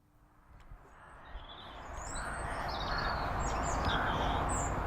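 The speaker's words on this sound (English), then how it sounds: "Birdsong is not a sound I associate with one of Her Majesty's prisons, but that is where I am." Birds chirp and sing outside a prison, scattered high calls over a rising wash of outdoor background noise that grows louder toward the end.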